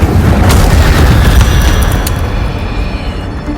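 An Incendio fire spell blast in Hogwarts Legacy erupts as a heavy booming roar with a few sharp crackles, loud and close, slowly fading over several seconds.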